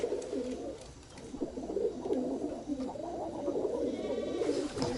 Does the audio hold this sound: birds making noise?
yes